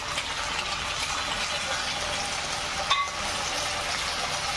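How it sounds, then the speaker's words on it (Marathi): Paneer chilli with two spoons of Schezwan chutney fries in hot oil in a pan, a steady close sizzle with a brief scrape of stirring partway through. "परत तेल आपण ढवळून घेऊ."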